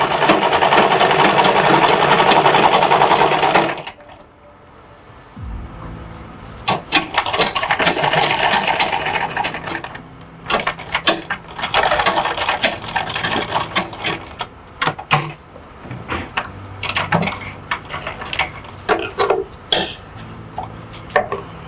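A sewing machine runs along a blouse seam in a steady whirring burst, stops, then starts again in short, uneven spurts of stitching mixed with clicks. The machine is close and heard alone, with no voices.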